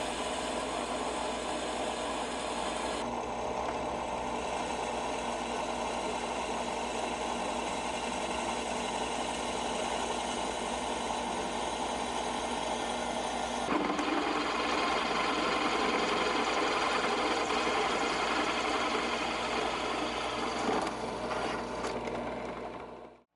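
Steady whine of a drill boring holes with a 3/16 drill bit through a scrap knife blade, continuous and close, its tone shifting slightly partway through.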